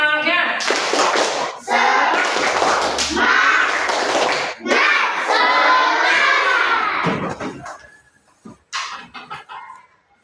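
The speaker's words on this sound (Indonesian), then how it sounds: "Ya, tepuk semangat dulu. 1, 2, 3. Tepuk semangat." A classroom of children performs a rhythmic clapping chant, with bursts of synchronized claps and shouted chanting voices filling several seconds before trailing off into scattered claps and quieter sounds.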